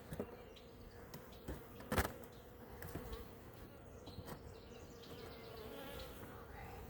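Honeybees buzz steadily and close by as frames are moved from nucleus boxes into full-size hives, a continuous hum with a few brief louder knocks and handling sounds.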